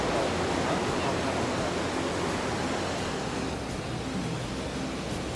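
A river in the Monakhovo gorge rushes steadily as a broad, even wash of flowing water that holds constant throughout.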